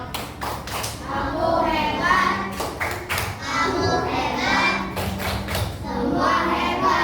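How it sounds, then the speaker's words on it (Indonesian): A classroom of children performs a rhythmic "tepuk hebat" clapping chant, sharp claps and thumps in patterned bursts mixed with young voices chanting along, loud and close. "Tepuk hebat."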